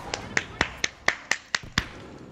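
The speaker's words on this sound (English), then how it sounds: "Why are you clapping?" Someone claps sharply during a Halo 5 multiplayer voice chat, about eight crisp claps at an even, brisk pace, close and alone.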